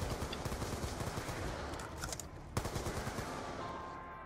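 Automatic weapon fire in the shooter video game Buried crackles in rapid, continuous bursts with a sharper shot cutting through near the middle, dense and steady throughout with no talk.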